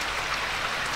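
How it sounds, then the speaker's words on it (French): Heavy rain pours down outside in a dense, steady hiss, loud and continuous with no voices. "Je peux pas sortir plus, il pleut trop."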